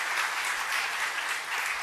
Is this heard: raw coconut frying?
no